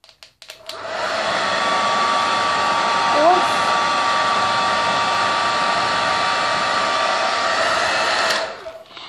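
A hair dryer switches on and blows with a loud, steady whir for several seconds, then cuts off.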